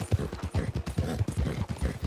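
Horse galloping fast in Red Dead Online, a close, steady rhythm of hoofbeats pounding throughout with no talk over it.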